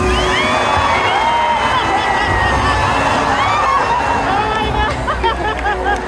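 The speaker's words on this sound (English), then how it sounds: "Give him another round of applause, everybody." A crowd cheers and whoops at a SeaWorld San Diego orca show, a loud, steady wash of voices and shouts with a few higher whistles and calls rising above the din, continuing throughout.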